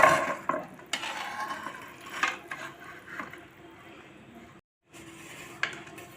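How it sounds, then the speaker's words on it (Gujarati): Stirring and scraping as hot sugar syrup is mixed into roasted flour for mohanthal, a Gujarati sweet, with soft wet sloshing and clinks near at hand, a brief silent gap, then more stirring. "તો આપણો લોટ શેકેલો છે તેમાં આપણે ચાસણીને નાખી દઈશું."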